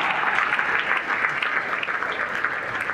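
Loud, sustained applause fills the room from a crowd at a Hindi poetry recital (kavi sammelan) in Pune; thick, even clapping close by, with no speech over it.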